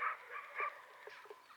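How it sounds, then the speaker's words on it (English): Outdoors in Gyumri, Armenia, dogs bark in short, fairly faint bursts, a few quick yaps heard at a distance, with no talking. "And there's so many dogs barking here."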